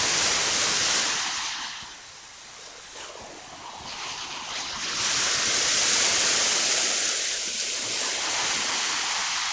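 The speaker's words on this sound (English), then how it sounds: "Yeah, I miss the sound of the ocean also." Ocean waves wash in a continuous broad hiss of surf, swelling loud, easing off briefly, then surging back up with no voices over it.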